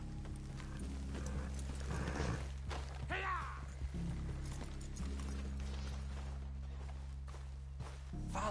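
Horse hooves clip-clop at a steady walking pace in the Red Dead Redemption 2 video game, close and continuous over a low droning music bed, with a brief whinny-like sweep partway through.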